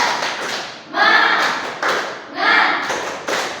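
Classroom students perform a rhythmic spirit clap, bursts of group clapping and tapping in a patterned beat that surge twice, with children's voices mixed in.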